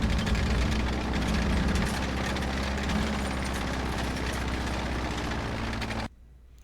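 Panther tank engine under way in the Roblox game Plane Crazy, a heavy low-pitched drone that rises and shifts slightly as it runs. The loud rumble continues alone for about six seconds, then stops suddenly.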